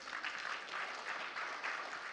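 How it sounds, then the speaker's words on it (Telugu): Audience at an Akhanda 2 film event applauding, a faint, distant wash of clapping crowd sustained in pulsing swells for a couple of seconds. "మీరు ఒక్కసారి గట్టిగా చప్పట్లు కొట్టండి."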